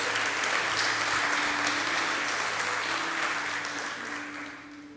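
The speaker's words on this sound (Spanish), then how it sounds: "Dale un aplauso al Señor entonces." A church congregation applauds steadily, a dense wash of clapping with a low hum underneath that fades toward the end.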